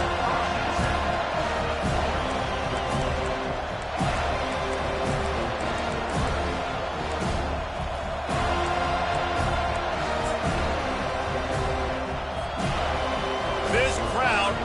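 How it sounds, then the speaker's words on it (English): Stadium crowd in an NCAA football video game, Florida State vs Clemson, roars loud and steady throughout as a dense, continuous wash of noise, with a game commentator talking over it. "This crowd bringing an ear-splitting welcome to their visitors."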